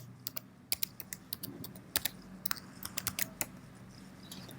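A password being typed on a computer keyboard, a quiet, close series of crisp key clicks in uneven bursts, some keys struck harder, over a faint room hum with no speech.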